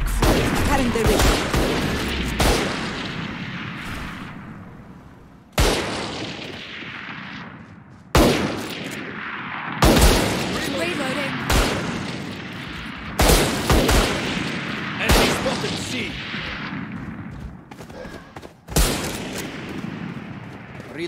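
Heavy gunfire in a tactical shooter video game: repeated loud bursts and sharp shots from close by, with decaying echoes between them and short gaps of quieter reverberation.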